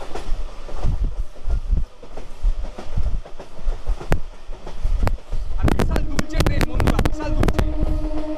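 An Arambagh local train on the Sheoraphuli–Tarakeswar branch line pulls into Diara station. It makes a loud, close rumble, broken by sharp rhythmic clacks and metallic clicks from the rails.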